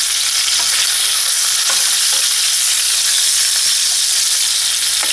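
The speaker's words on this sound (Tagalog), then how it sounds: "continue lang natin ang pagprito sa lahat ng ating fish" Fish fries in hot oil in a pan, giving a loud, continuous, dense sizzle with occasional soft stirring knocks and no voices.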